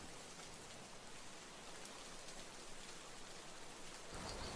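Rain falls steadily in an even, dense hiss that stays quiet and continuous throughout, with no voices.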